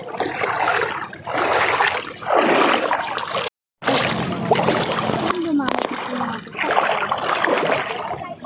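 Steady, loud rushing of running water along the Calabasa River, a continuous broadband wash with a brief dropout partway through.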